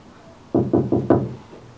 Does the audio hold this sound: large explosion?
no